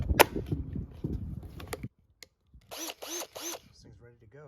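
A Bauer 20V Hypermax cordless 1/2 in. drill/driver spins up in three short, close whirring bursts with rising and falling pitch, following clicking and handling of the tool.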